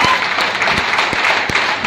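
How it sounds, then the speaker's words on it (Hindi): Audience applause at a large training event, a loud dense burst of many hands clapping, with a few sharp claps punching through, sustained across the moment with faint voices underneath. "जोरदार तालियां रामा राजू के लिए।"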